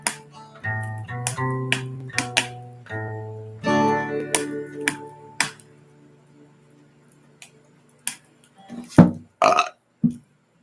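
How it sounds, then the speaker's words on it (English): A series of loud, close burps, some long and drawn out, others short, followed by sparse clicks and a final burst of belching. "Sorry for that burp at the end."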